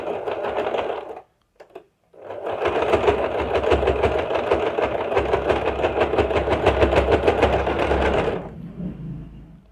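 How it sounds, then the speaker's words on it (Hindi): A sewing machine stitches a separate seam across fabric in a loud, steady whirring run, stopping briefly near the start with a few short bursts before the long continuous stitching resumes and then cuts off. "इस पर अलग से सिलाई अब हम डाल के बताते हैं"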